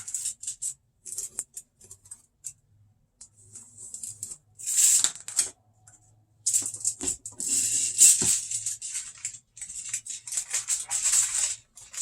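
Scissors cutting material to rough size for a solar eclipse viewer: close, crisp snipping and rustling strokes in uneven bursts separated by brief pauses, no talking.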